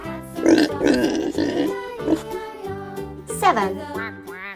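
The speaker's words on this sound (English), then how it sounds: "This is pig." A pig grunts and snorts in a series of rough, close, moderately loud calls.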